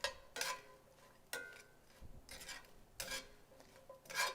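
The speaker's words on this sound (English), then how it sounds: "Back in the skillet, toss, toss, toss." Bread is tossed in a skillet, giving soft rhythmic scraping and shuffling bursts roughly every second, quiet and close with no voices.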